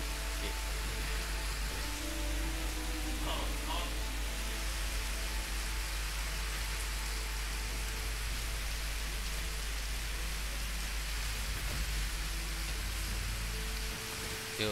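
Heavy rain in a video game pours as a steady, even hiss of downpour that fills the whole stretch without letting up, with a few faint background game tones and no talk.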